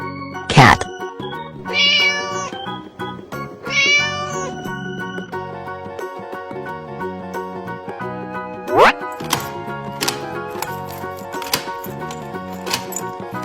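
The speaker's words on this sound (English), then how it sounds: "Cat." A cat meows a few times near the start, loud and up close, over a continuing musical backing with sharp percussive knocks later on.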